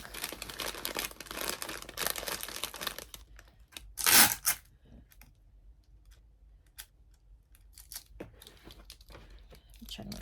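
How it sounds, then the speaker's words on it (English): A short piece of tape is torn from a roll while a Valentine's basket is assembled, a single sharp ripping burst close by after a stretch of busier rustling, followed by quieter handling noises. "I'm just putting a little piece of tape on the back."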